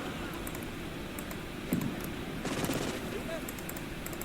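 Gunfire in the WWII game Call to Arms: Gates of Hell, Eastern Front, with German troops advancing behind a tank against Soviets with PPSh submachine guns. A steady battle din carries short bursts and scattered shots, a couple of them louder and closer.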